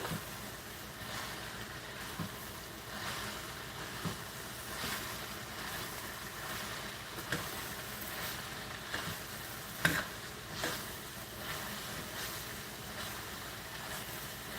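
Ingredients sautéed in a pan, a steady close sizzle and frying hiss with faint stirring scrapes and occasional clinks throughout.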